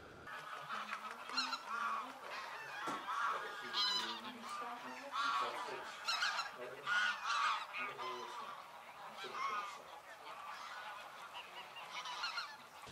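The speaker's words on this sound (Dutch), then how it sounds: "Terwijl die grauwe ganzen maken echt zo'n klassiek gegak." Large flock of greylag and barnacle geese honking on an island, seen from a bird hide near Losser, a busy overlapping chorus of calls at moderate distance, some higher, yapping and others classic cackling.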